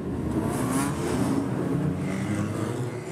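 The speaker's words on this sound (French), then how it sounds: "Il y a des voitures de course" Race cars roar past at a motor racing track, a steady mid-distance engine drone with rising and falling revs and no voices over it.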